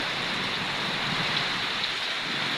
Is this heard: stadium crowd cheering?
no